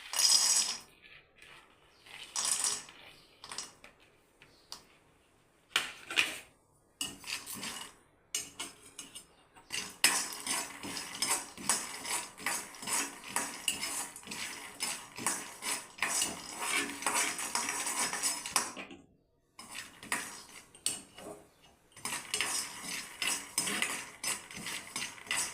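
Peanuts are tipped into a cooking pan for a tangy, spicy Telugu peanut curry, producing close bursts of dry rattling and clinking with short pauses, then a long, busy stretch of scattering.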